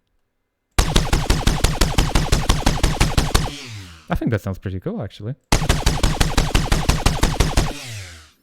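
Rapid bursts of layered gunfire ring out in two long volleys, loud and close, with a brief stretch of talking between them.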